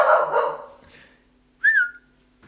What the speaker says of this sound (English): He's just barking because he is sick of this shit.